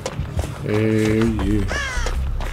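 A crow cawing in Dead by Daylight, two harsh, loud calls in close succession, with a voice speaking over the game sounds.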